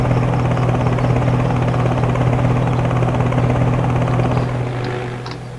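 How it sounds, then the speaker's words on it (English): Helicopter in the video game Homebrew Vehicle Sandbox: a loud, close rotor thrum with a steady chopping pulse and low engine drone, easing off slightly toward the end, no talk. "Oh, look, there's the helicopter."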